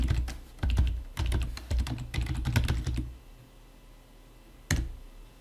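Fingers type a command on a computer keyboard running Linux Ubuntu, a quick close run of key clicks for about three seconds, a pause, then one firm keystroke.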